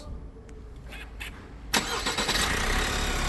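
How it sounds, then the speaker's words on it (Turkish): An Opel Astra K with the 1.6-litre 136 hp engine cranks briefly and catches, then settles into a steady, close idle after a few faint clicks. "Bir bas marş abi."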